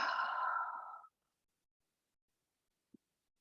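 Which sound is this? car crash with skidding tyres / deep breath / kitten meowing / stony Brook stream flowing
deep breath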